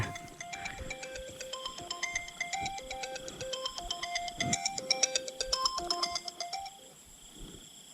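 A mobile phone rings with an incoming call, playing a repeating melodic electronic tune of stepped bright tones for several seconds. It is moderately quiet and fades at the end, with faint background noise and no talking.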